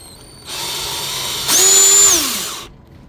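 A power drill unscrews the screws on a 2021 Jeep Wrangler JLU air filter box. It whirs steadily and close up, then rises in pitch for about a second before spinning down and stopping.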